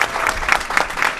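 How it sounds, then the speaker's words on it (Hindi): Crowd at a political rally applauding, dense rhythmic clapping from many hands, loud and fairly close, in a short burst with no voices over it. "वो आप लोग तालियां बजाकर उसकी गवाही दें"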